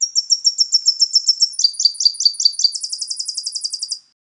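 Tennessee warbler song, loud and close: a fast series of high chipping notes that shifts into a second quicker phrase, then ends in a rapid trill of even faster notes before stopping.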